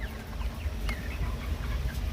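Kaveri breed chickens in a poultry shed on a farm give off scattered short clucks and chirps over a constant low hum, with no talking.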